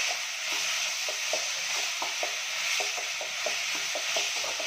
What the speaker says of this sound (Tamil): தக்காளி நல்லா மசியற அளவுக்கு வதக்கிக்கலாம்.